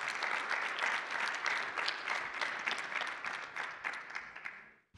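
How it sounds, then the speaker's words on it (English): An audience at a conference panel session gives a sustained round of applause, with a thick, even patter of many hands that tapers off and stops just before the end. "Let's have a round of applause"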